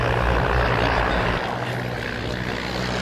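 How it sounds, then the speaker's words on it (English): A de Havilland DH-84 Dragon twin-bay biplane roars past low along the flight line at the East Fortune festival of flight, a loud steady propeller drone with strong low engine throb that eases slightly as it passes. "Here she comes, Ola, the DH-84. See a twin bay biplane."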